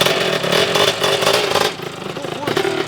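A small motorcycle with a freshly rebuilt engine is ridden and shifted through its gears, its engine revving and dropping close by while someone talks over it.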